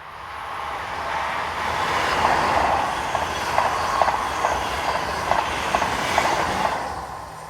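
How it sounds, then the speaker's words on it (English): A TGV Réseau duplex high-speed train passes on the Mâcon to Chalon-sur-Saône main line in France, a broad rushing roar that swells and holds, with rhythmic clicks from wheels over rail joints. "Number 606 is a TGV Réseau duplex set"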